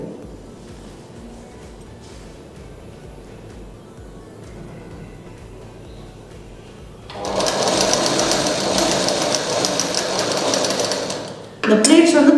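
A sewing machine stitches pleats into cloth, a loud, fast, even whir that starts partway through after a quieter stretch and runs steadily, stopping briefly before picking up again near the end.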